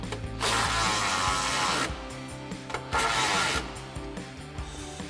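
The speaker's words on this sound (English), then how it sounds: "Tighten down the nuts for our mounting bolts, and for that we're going to need our 14mm socket on our ratchet" A ratchet with a 14mm socket tightens nuts on the running-board mounting bolts of a 2020-2026 Silverado 2500, giving two loud, close bursts of rapid clicking with quieter fiddling between.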